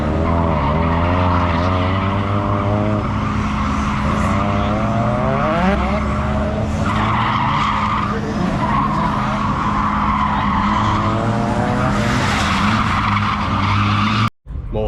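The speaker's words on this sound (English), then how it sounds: "drifting is happening" Cars drift at the Santa Pod JAP Show Lite 2023, with loud, sustained tyre squeal and skidding over roaring, revving engines that rise and fall, and a voice faintly underneath.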